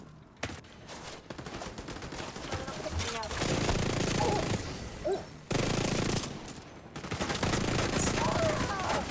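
Sustained rapid minigun fire in a video game, a dense continuous roar of gunfire with brief pauses between bursts, heard under occasional talk.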